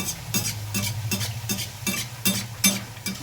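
Luchi frying in hot oil, a continuous sizzle broken by a regular series of about eight sharp scraping strokes, close and loud, with no one talking.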